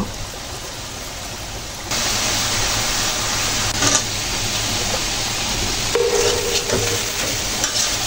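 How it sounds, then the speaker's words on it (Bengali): Okra and vegetables are stirred with spices in a hot pan, a steady sizzling hiss that jumps louder after a couple of seconds, with scraping utensil strokes scattered over it. "এগুলো মশলাটা ভালো করে মিক্স করে নিতে হবে যেন মশলাগুলো ভেন্ডির সাথে ভালো করে লেগে থাকে"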